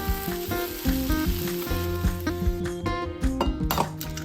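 Egg noodles fry in a pan with steady sizzling and occasional light utensil clinks, heard under prominent background music.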